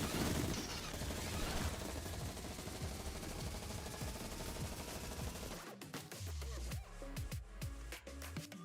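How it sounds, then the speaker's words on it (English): Minigun fire in the video game Bullet League, a dense, continuous rattling burst of rapid gunfire mixed with game noise, followed by scattered sharper shots and clatter toward the end. "That minigun's blazing, but the zone's closing fast."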